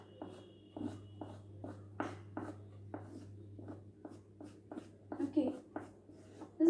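Pen or marker strokes sketch a down feather diagram in a science class, with a run of short, rhythmic scratches on a board or paper under a steady low hum.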